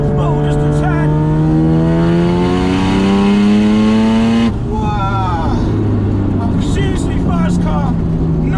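A 500 whp Mazda RX7 FD3S with a rotary engine accelerates hard, its loud buzzing note climbing steadily through a gear, dropping at a shift, then climbing again from close inside the car.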